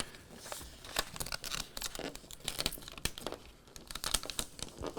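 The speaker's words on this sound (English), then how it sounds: "I just peel it back." Cricut transfer tape is peeled back from vinyl in a steady, close crackling and crinkling rustle lasting several seconds, with no speech.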